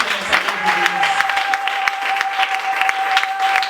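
A church congregation claps steadily and densely throughout, a broad wash of applause with a faint sustained tone running beneath and no clear cheering voices standing out.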